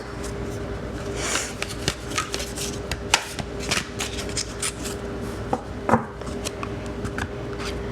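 Tarot of Dreams oracle cards shuffled by hand, a continuous close riffle of soft flicking and sliding with brief sharper snaps, steady and moderately loud.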